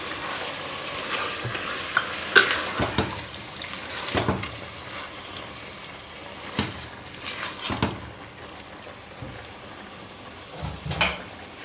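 Chicken frying in a pan with ginger garlic paste while being stirred, a steady low sizzle broken by scraping spoon strokes and clanks at irregular intervals, close by with no talk.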